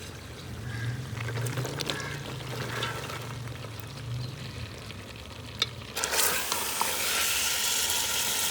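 Potatoes, carrots, peas and radish go into a pan of browned chicken with a little water, giving a steady close sizzle and frying hiss, stirring scrapes, then a sharp surge of louder sizzling as more is added.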